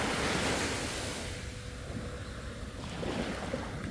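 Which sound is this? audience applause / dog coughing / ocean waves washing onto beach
ocean waves washing onto beach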